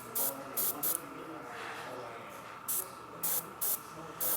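Airbrush spraying a faint red basecoat at about 10% over a blue undercoat on a model: short, sharp hissing bursts, three early and four later, over a quiet, steady background hiss.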